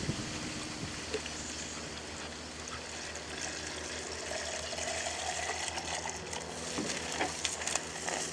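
Water trickles steadily into the soil around the roots of tomato plants in a garden, a continuous soft, close wash that holds constant for the whole stretch.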